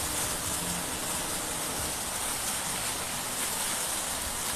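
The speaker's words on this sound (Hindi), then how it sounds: "बहुत बारिश हो रही है मेरे शहर में।" Heavy rain falling over a Himalayan hill town, a dense, steady wash of noise with no breaks, close and enveloping throughout.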